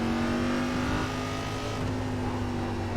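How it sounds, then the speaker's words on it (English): A race car engine in a racing video game downshifting into second gear, a steady loud droning whine that dips and then holds, heard alone without speech. "I think I might be downshifted into second before the last chicane."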